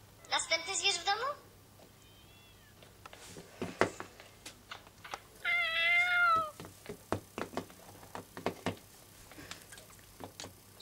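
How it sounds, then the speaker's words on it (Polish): A house cat meows loudly twice, a short burst at the start and a longer call midway, with scattered knocks and people talking nearby. "Co to było? No kot."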